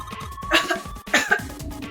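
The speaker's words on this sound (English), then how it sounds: "she's coughing so hard she can't even talk" A woman coughs in two hard, raspy bursts, close and loud, with low game ambience and a steady tone running underneath.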